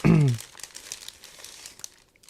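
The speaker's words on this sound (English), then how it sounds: "the plastic bag is resealable, so we can easily open it and take a look inside" A resealable plastic bag from a 1/48 scale Po-2 model aircraft kit is pulled open with a sharp crinkling rip, then light scattered rustles of plastic handled close by.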